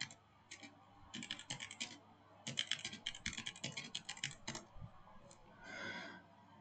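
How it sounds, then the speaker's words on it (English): Rapid bursts of typing on a computer keyboard, close and clear, with short pauses between runs of clicky keystrokes and a soft rustle at the end. "let me type in here"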